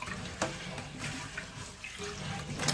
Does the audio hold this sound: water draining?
yes